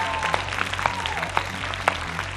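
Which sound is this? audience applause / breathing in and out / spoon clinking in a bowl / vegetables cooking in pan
audience applause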